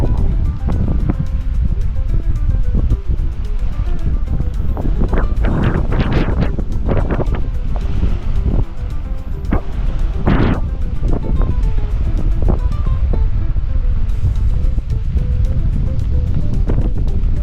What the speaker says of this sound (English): Terrible wind, like 45 kilometers per hour.